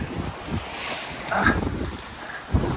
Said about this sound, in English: we've got 14-15 knots of wind